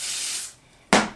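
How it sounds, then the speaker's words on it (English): Two quick hissing spritzes from a Red by Kiss lace bond spray bottle on a wig, the second one sharper and louder, close by. "This is the Red by Kiss lace bond spray."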